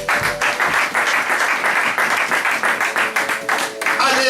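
A church congregation at an evangelical worship service applauds in brisk, rhythmic bursts of clapping, loud and close, with voices mixed into the crowd noise.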